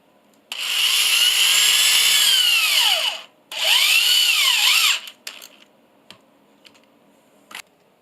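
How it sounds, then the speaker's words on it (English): Power drill driving screws through pipe flanges into a wooden tabletop, two loud, close bursts of whirring whose pitch drops as each screw seats, followed by light clicks and handling sounds. "attach the pipe flanges to the tabletop with screws"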